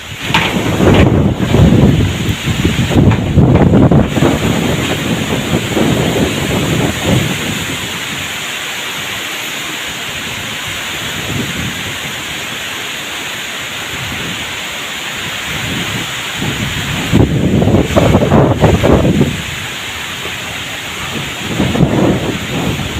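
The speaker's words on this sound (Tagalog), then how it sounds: "So grabe ang lakas ng hangin mga idol." Strong typhoon wind from Typhoon Kristine in Southern Leyte roars continuously against the microphone, with loud buffeting gusts rising and falling over a steady rushing bed of storm noise.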